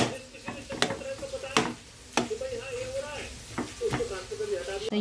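A spiced mixture with lemon, sugar, garam masala and turmeric is stirred in a pan, with sharp spoon knocks against the metal at irregular intervals over a soft sizzle, while someone talks nearby.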